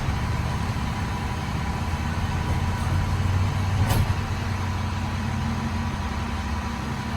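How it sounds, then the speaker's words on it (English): A garbage truck engine runs outdoors with a steady, loud low rumble throughout, close by, with a brief sharp burst of noise midway and no talking. "Silas, do you like trash trucks?"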